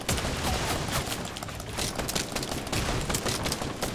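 Rapid gunfire bursts in the video game Fortnite, a dense continuous fusillade of overlapping shots filling the whole stretch, loud and close.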